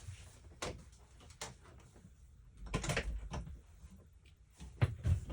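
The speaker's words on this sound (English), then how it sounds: "let me close the door here" A door in a quiet indoor room is pushed shut, giving a few soft clicks and muffled thumps from the latch and frame, spaced apart and fairly faint, with no talking.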